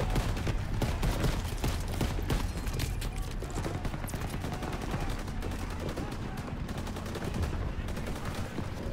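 Continuous loud gunfire from a Call of Duty WW2 Battle of the Bulge campaign fight, dense rapid bursts and volleys filling the whole stretch with voices talking over it.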